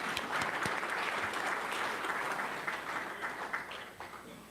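Applause from the audience at an awards luncheon, a dense, even patter of many people clapping that holds steady and then tapers slightly toward the end, with no speech on top.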